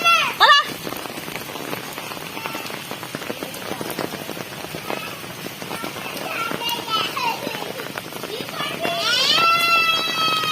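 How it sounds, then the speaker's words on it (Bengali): Hail falls on a tin roof with a dense, continuous patter of sharp impacts, close and fairly loud, while people and children talk and call out in the background. "এই যে আমাদের টিনের চালে সিল পড়েছে কত।"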